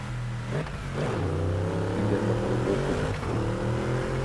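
A Bentley Continental in the Driveclub racing game revs hard, its loud engine note climbing, dipping briefly at gear changes, then climbing again.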